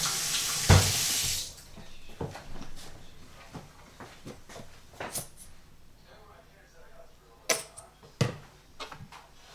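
Kitchen tap water gushes briefly at the start as hands are washed during cooking, then gives way to scattered clattering and a person talking.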